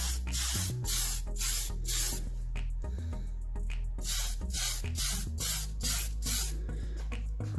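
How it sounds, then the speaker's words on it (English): Spray paint hissing onto an RC drift car body shell in repeated short bursts, each a loud close hiss separated by brief pauses, steady rhythm throughout. "I'm just going to ignore the camera and spray, so see how I go."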